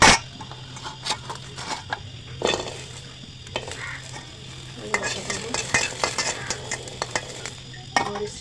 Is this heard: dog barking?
no